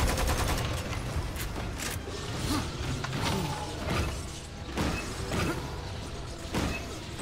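Video game gunfire in Lost Planet 2 plays as a dense, continuous barrage of rapid shots and explosive bursts with heavy rumble, loud and unbroken across the whole stretch.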